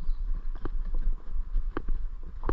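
Horse hooves clip-clop along a Montana trail during a trail ride, a steady walking rhythm of close, fairly loud hoofbeats over low rumble.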